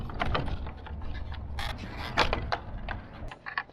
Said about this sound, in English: So now I can disconnect all the lights.